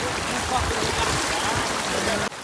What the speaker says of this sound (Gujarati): આ બધા ખેતરોમાંથી પાણી આટલા આવે છે